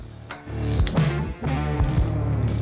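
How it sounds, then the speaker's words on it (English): A hand ratchet clicks as it turns a bolt on a Jeep Wrangler axle during an inner-axle seal replacement, giving loud, close bursts of rapid ratcheting with brief pauses between strokes. "See if we have enough torque with our hand ratchet."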